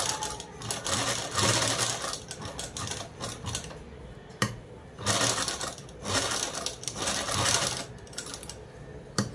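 Sewing machine stitching a blouse neckline in bursts of rapid mechanical clatter, several runs of a second or two separated by short pauses and small clicks, close and fairly loud.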